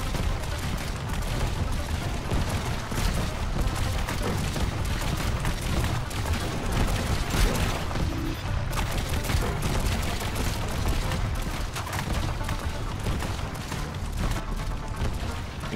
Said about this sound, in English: the bullets actually fire and leave the gun when the sensors detect something